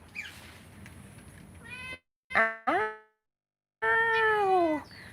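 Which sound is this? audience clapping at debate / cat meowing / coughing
cat meowing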